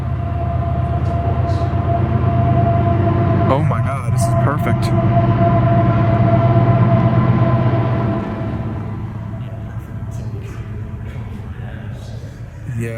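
A train rumbles steadily overhead while people stand in a tunnel below the tracks near Shanks Ferry, a deep continuous roar with a few creaks and squeals that slowly fades, with people talking in between.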